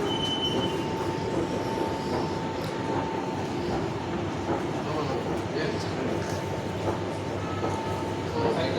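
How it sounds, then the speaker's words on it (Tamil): A Chennai metro train rolls into a platform with steady rumble and faint wheel squeal, while a station announcement plays over it. "Next train to Central Metro is arriving on platform 2"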